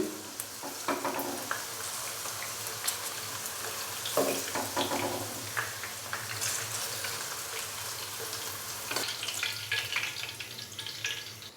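Steady crackling sizzle of okra frying in hot oil, with occasional louder pops and stirring clatter throughout, no voices.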